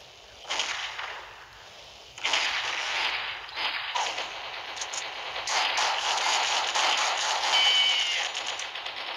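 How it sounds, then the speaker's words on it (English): Gun reloading and firing in the Mini Militia video game, with crisp mechanical clicks and bursts of sharp digital shots crackling over a hissy background, fairly quiet and without talking. "gonna just reload the bullets"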